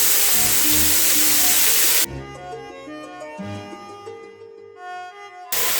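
Onions, cumin seeds and curry leaves frying in hot oil make a loud, broad sizzling hiss for about two seconds. A quieter tonal stretch follows, then the sizzle bursts back at the end.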